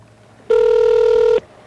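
A single steady electronic tone of nearly a second, loud and close, sounding like a phone ring or call-progress beep, with quiet before and after.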